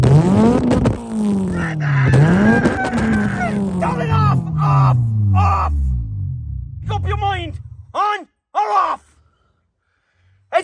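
The engine of a Toyota Carina with a muffler fitted is revved several times, rising and falling in pitch, loud and close. It settles toward a lower idle, followed by brief bursts of voices.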